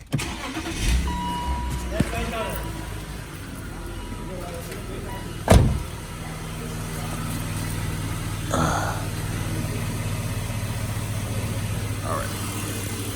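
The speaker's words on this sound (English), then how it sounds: "I'm gonna start the car real quick to show you how mine look right now." A BMW E39 engine cranks and catches with a sharp burst, then settles into a steady low idle with a humming electrical whine, while a person talks over it.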